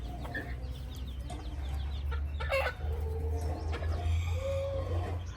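Hens cluck softly in short scattered bursts over a steady low rumble on a farm in the morning, a hen with four or five chicks among them, with a few brief sharper calls from nearby fowl.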